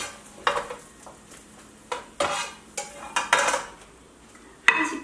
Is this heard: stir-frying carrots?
yes